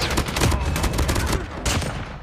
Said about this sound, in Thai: จังหวะนี้ต้องปืนกลนะ